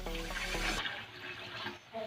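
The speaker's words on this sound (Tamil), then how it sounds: "தண்ணி ஊற்றிக்கலாம்." Water is poured into a pot on a stove for making syrup for banana payasam, a steady splashing gush that stops sharply partway through, leaving a quiet room.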